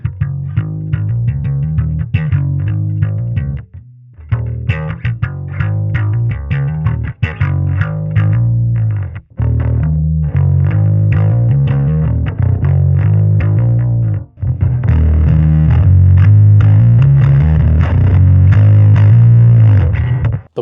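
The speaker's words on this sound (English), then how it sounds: "you like the sound of this Mesa Boogie emulation" Distorted bass guitar played through a Mesa Boogie amp emulation in Two Notes Genome software, heavy and continuous with chorus-like effects, loud riffing notes running the whole stretch with brief gaps.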